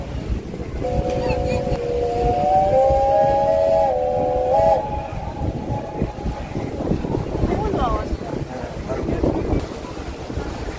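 A boat cruises across Lake Brienz near Interlaken, its steady engine rumble and strong wind noise filling the clip, with a long tonal whistle-like note early on and people talking underneath.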